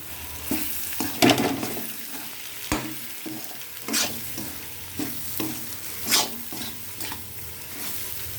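Eggs frying in a spiced masala of turmeric and chilli powder, with a steady sizzle broken by repeated scraping stirs of a spatula in the pan, heard close with no talk.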